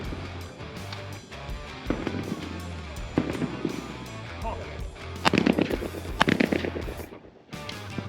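A shotgun fires at trap shooting targets outdoors, with sharp reports scattered through a noisy stretch and a cluster of louder blasts toward the end, over a low background hum and some talking.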